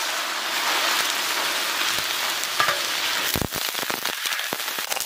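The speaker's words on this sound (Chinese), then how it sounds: "糖色炒好了，把牛肉放进来。" Beef pieces hit caramelized sugar in a hot wok, throwing up a loud, steady broadband sizzle that holds throughout, with sharper crackles and spatters near the end as the meat is stirred.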